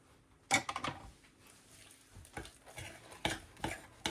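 Banana bread ingredients stirred together in a bowl, with sharp clinks and scraping knocks of a utensil against the bowl, a few separate bursts among quieter gaps, close by.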